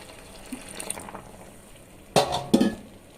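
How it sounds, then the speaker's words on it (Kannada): Water being stirred into a pot of bisi bele bath, a low sloshing and scraping that turns into two louder pouring and stirring splashes near the end. "ಸ್ವಲ್ಪ ನೀರು ಮಿಕ್ಸ್ ಮಾಡ್ತಾಯಿದ್ದೀನಿ"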